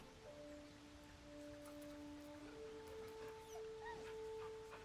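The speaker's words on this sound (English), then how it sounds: "Where's the doggo? There's the doggo." A dog in the video game Baldur's Gate whimpers with thin, drawn-out whines over a soft rainy ambient backdrop, faint and steady.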